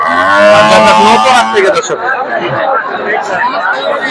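Loud, drawn-out moos from dairy cows close by at a cattle market in Joypurhat, Bangladesh, followed by a busy hum of people chattering and livestock noise in the background.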